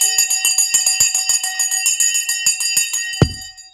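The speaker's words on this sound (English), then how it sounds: "We're about to ring the bell, folks." Opening or closing bell on the stock exchange floor, a rapid run of loud metallic strikes ringing for about three seconds, then a single heavy thud and a fading tail.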